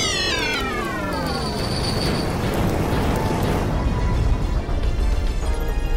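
In the video game Magic Knight Rayearth, a big laser attack effect fires as a loud, dense synthetic blast, with descending whistling sweeps at the start that give way to a sustained roaring rumble lasting several seconds.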